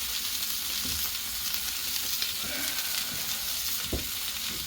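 Burgers for patty melts frying on a Blackstone griddle, a steady, dense sizzle and crackle that holds evenly throughout, fairly close and with no voices.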